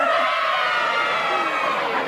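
A studio audience of children cheers and chatters on a live Saturday radio show, a steady, dense wall of young voices filling the room without pause, fairly loud and close.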